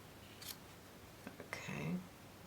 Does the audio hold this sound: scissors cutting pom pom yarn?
yes